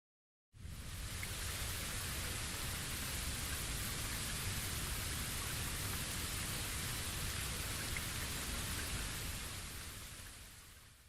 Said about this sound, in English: Looks like the rain has stopped.